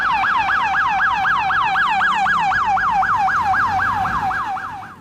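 A toy ambulance gives off a loud, steady electronic wail that rises and falls in quick, even cycles, with no voices over it, before it fades near the end.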